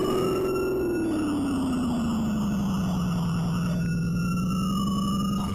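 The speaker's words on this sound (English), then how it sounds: "we can chase down the criminal now with an American siren" An American police siren from the Amiga racing game Highway Patrol 2 wails continuously and loudly, its pitch sliding down and back up with no talking.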